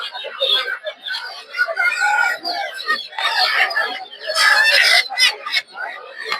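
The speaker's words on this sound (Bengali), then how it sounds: "দেখতে পাচ্ছেন এদিকে হচ্ছে দেশি মুরগি প্রচুর পরিমাণে।" Desi chickens at a busy village poultry market cluck and squawk in a crowded jumble, close and loud, mixed with steady chatter from people nearby.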